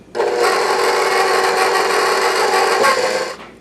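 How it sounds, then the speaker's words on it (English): Stand mixer beating gingerbread cookie dough with added molasses and vanilla, a steady loud whirring that runs continuously for a few seconds before cutting off, with no talking. "mix this until this is well incorporated"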